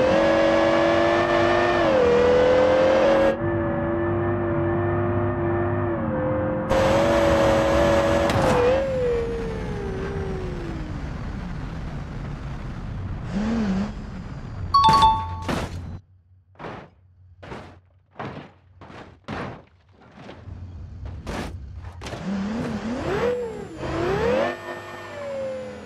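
An Aston Martin in BeamNG Drive, a driving simulator, on a mega ramp: a loud engine drones and shifts pitch as the car speeds up, then a string of sharp knocks and clunks from hard landings and impacts, followed by more revving.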